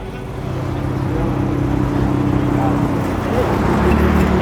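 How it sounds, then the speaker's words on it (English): A Mazda Miata on air suspension pulls out of an evening car meet, its engine a steady low hum that builds slightly as it rolls away, with other idling cars and people talking nearby. "But oh look, Miata's rolling out."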